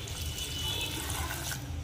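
Waste water from boiled tamarinds is poured off in a village kitchen. A continuous, close splashing gush of liquid runs steadily for about two seconds, and no one speaks.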